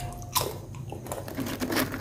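Crisp rojo nongko banana chips, made with no sugar or salt, crunch between the teeth at close range: one sharp bite, then a run of softer chewing crunches.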